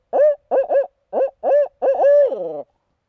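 A voice imitates a barred owl call up close: a loud rhythmic series of hoots in clustered bursts, ending in a drawn-out descending note, with no other talk.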